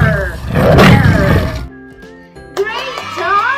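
Kindergarten children in a phonics class imitate a tiger's roar with a loud, drawn-out growling shout from their voices, followed by a teacher singing and speaking.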